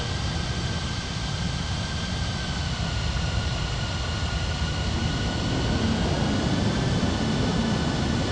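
Steady broadband jet engine roar of an airliner taking off from runway 32 at a simulated airport, a continuous loud wash with a faint whine above, swelling slightly toward the end.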